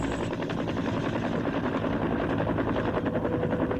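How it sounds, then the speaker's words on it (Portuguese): Steady, loud whirring rotor drone of a helicopter overhead, with rhythmic chopping pulses running continuously and unbroken throughout, no voices. "barulho de um helicóptero."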